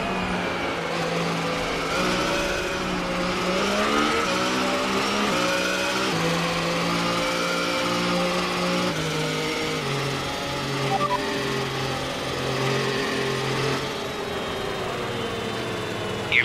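A Formula 1 car in the F1 2018 video game at the Chinese Grand Prix in Shanghai, its engine droning loud and continuous, pitch stepping up and dropping as it shifts through the gears, with no talk.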